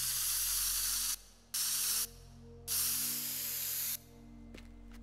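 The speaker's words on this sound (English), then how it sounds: "where's the spray can?" Spray can in the video game Teardown hisses in three sustained bursts separated by short pauses, loud and close, over a quiet game hum.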